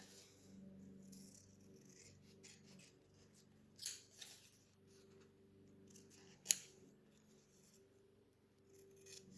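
Scissors cut out a paper tracking sheet for diamond painting, quiet close snips with a couple of sharper cuts and soft paper rustling in a calm room.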